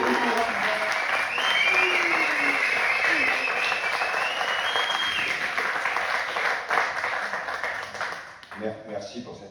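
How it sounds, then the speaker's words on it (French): Loud, sustained applause from a theatre audience welcoming a performer on stage, a dense wash of clapping that fills the room and then thins out toward the end. "Je vous demande, pour Orbor, sinon il ne viendra pas, un tonnerre d'applaudissements."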